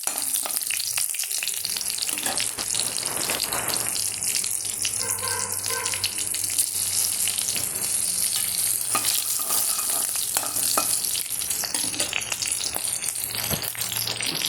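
Mustard seeds splutter and crackle in hot oil while leaves for a Kerala leaf thoran fry, a steady dense sizzle with stirring rattles throughout, close and continuous.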